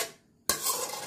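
A serving utensil scrapes and clinks against a dish as stir-fried shrimp with shallots is scooped onto a plate, with a short quiet gap before a sudden bright metallic scrape that continues, close and moderately loud.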